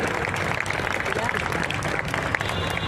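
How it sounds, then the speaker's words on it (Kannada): A crowd at a live stage event applauds in a dense, continuous wash of clapping, with cheering voices mixed through it. "ದಯವಿಟ್ಟು ಜೋರಾದ ಚಪ್ಪಾಳೆ ಬರಬೇಕು ಸಿರಿಕನ್ನಡ ವಾಹಿನಿಗೆ"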